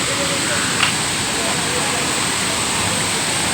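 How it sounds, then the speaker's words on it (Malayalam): A waterfall near Thiruvananthapuram makes a steady, dense rush of falling water, loud and unbroken throughout, with a brief faint sound near the start. "അപ്പോൾ നമ്മൾ ആ വെള്ളച്ചാട്ടം കാണാൻ വേണ്ടി വന്നതാണ്"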